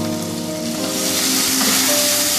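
Chopped onion, tomato and ginger garlic paste frying in a pan, a loud, steady, close sizzle throughout without any talk.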